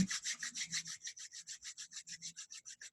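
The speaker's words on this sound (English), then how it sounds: "Just rubbing the palms together" Palms rub together in a steady back-and-forth rhythm during a quiet yoga session, each soft brushing stroke close and distinct, about a dozen in a row with no talking.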